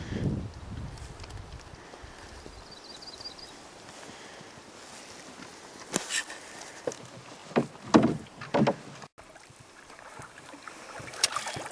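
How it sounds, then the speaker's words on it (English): Canoe paddled down small Sylvester Lake near Wolf Lake; quiet water and breezy ambience carry a few intermittent splashing paddle strokes that grow louder toward the end, with no talking. "Took us all of about 2 minutes to paddle down it."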